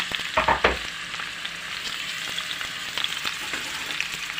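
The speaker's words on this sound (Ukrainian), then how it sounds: "І кладу на сковорідку, оце все м'яско, піджарюватися." Meat sizzles and crackles in a hot pan, browning for pea soup, with a couple of louder stirring scrapes early on and steady frying noise after that.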